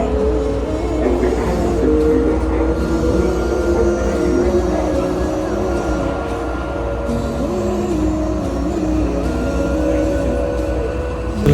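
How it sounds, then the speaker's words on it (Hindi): Airport speed train carrying passengers from the plane to the terminal, a continuous loud rumbling ride with steady motor hum and rolling rail noise throughout, no talk. "जहाज से लैंड करते ही एक स्पीड ट्रेन के through we went to our airport"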